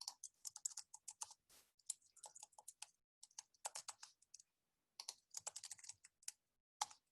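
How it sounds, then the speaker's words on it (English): Bursts of typing on a computer keyboard, rapid clicking keystrokes in clusters separated by short pauses, close and fairly quiet with no talking. "I'll go ahead and continue typing my answers"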